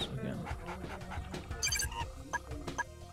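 Attack dogs in the Red Alert 2 strategy game, several short barks and panting yelps scattered over a busy mix of game effects while someone talks over them.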